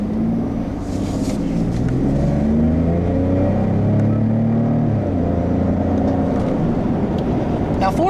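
A 2014 Ford F-150 Tremor pickup with an EcoBoost V6 accelerates, its engine drone holding steady and loud from inside the cab, with rising and shifting tones and no talking.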